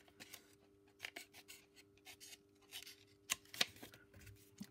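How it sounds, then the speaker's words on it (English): Scissors trimming a piece of card or paper: quiet, close snips and rustling cuts arriving in irregular bursts, with soft paper handling between them and no talking. "Now this one I am going to trim it because I've just noticed it's white on that side"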